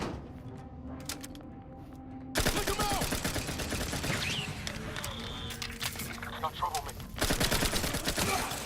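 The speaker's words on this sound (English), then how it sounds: "That's a grenade." Gunfire and explosive blasts burst out in a firefight in the sci-fi shooter game Outer Worlds 2, with dense, continuous loud volleys after a quieter opening and a renewed heavy burst near the end.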